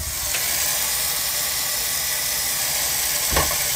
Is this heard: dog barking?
no